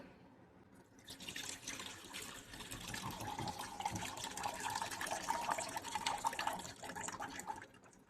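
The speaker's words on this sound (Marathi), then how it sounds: "आता यातलं पाणी आपण ह्याच्यात ओतून काढू." Water is poured off soaking poha, pouring steadily with a splashing, trickling sound after a quiet start, continuing for several seconds before tapering off at the end.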